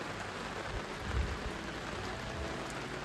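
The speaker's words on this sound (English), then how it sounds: "It's 7:30 and it started to rain." Rain falling at night on an offroad caravan campsite by a creek at Ban Ban Springs, a steady soft hiss of drops with a brief low thump partway through, no voices.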